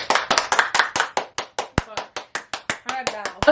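Hands clap about eighteen times in a quick, fairly even rhythm, sharp and close, a small group or a single pair clapping together, with no talk over it.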